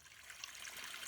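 Soft, steady trickle of spring water running from a pipe spout at a trail water source, faint and close, with no voices.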